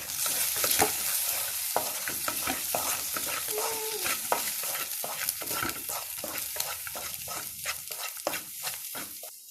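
Egg bhurji is stirred and broken up in a frying pan: quick, rhythmic spatula scrapes and taps over a constant sizzle, close by, with no voices.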